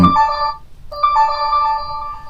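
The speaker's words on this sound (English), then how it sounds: "That's the phone." A phone ringtone sounds loud and close at an FPV drone build bench, two electronic melodic bursts separated by a short gap, with no talk over it.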